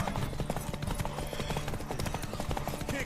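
Horse hooves clip-clop in a steady rhythm in the Witcher 3 video game, set against game music and ambience, with a voice speaking over them at moments.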